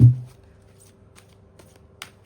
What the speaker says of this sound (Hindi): तो सबसे पहले मैं कार्ड निकाल लेती हूँ।